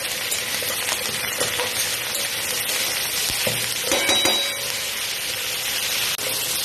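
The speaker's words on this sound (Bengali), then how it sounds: "দিয়ে একটু নেড়ে দিচ্ছি, আর একটু হতে দেবো।" Chopped tomatoes and onions sizzle in a pan for a small-fish curry, a close, steady frying hiss broken by scraping stirs.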